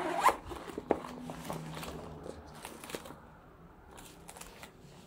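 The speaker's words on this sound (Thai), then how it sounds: "ช่องเก็บของหลักเป็นแบบซิป2อัน" Zipper on the main compartment of a Leo beer backpack being pulled open, a close, crisp ratcheting run with a few sharper ticks, fading to soft handling rustle.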